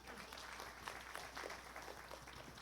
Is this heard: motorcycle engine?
no